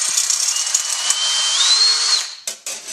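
A power drill spins a number 42 bit through a hole during a shift kit install, a loud whining motor with rising pitch that runs steadily before cutting out in a couple of short bursts at the end.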